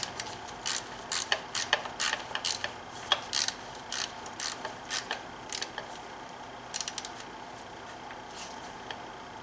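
A ratchet works a bolt on a BMW N52 valve cover, with fast bursts of crisp clicking strokes close by, broken by short pauses, and no talking.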